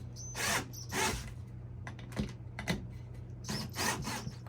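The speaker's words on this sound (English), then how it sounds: "So I can line up my screws a little bit in those holes and drill them in." A power drill drives screws into wood while a boy scout bird feeder is assembled, several short whirring bursts separated by pauses and light handling sounds, fairly faint and close.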